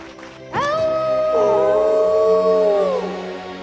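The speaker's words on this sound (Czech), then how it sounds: "Ach ne, to zní jako další vlk." A wolf howls in the PAW Patrol cartoon, one long, loud, wavering howl that swells, holds and then fades over a few seconds.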